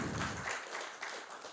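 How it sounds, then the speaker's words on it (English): An audience at a tech conference talk applauds with a brief, faint patter of clapping. "Applause."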